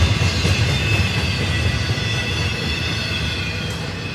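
A Union Pacific freight train rolls past on the Roseville Sub in California, a steady loud rumble of rail cars with a constant metallic hum and no voices.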